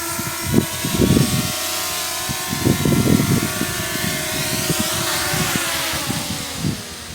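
A drone flies and comes in to land, its rotors giving a steady whirring buzz with shifting pitch, mixed with intermittent mechanical rattling bursts up close.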